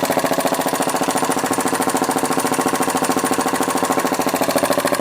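A small homemade model steam engine runs steadily with a rapid, even chuffing beat that repeats many times a second, loud and close, with no voices over it.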